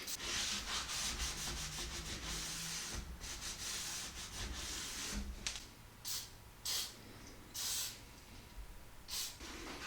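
A cloth soaked in lubricant wiping down a metal ammo can, soft close rubbing swishes that run continuously at first, then break into short separate strokes, with no talk.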